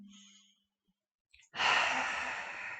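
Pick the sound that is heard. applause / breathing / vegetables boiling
breathing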